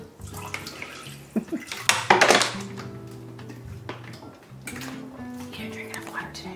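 Tap water running in a kitchen sink while something is rinsed during home cooking, a brief splashing gush with a few clanks of dishes, all under a person talking.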